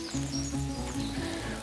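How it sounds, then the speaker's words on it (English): Food fresh off outdoor cooking sizzles steadily up close, a dense crackling hiss with faint tonal hums underneath and no talking. "Oh, they're still sizzling."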